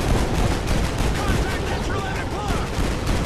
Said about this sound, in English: Artillery inbound. Coordinates confirmed. Firing.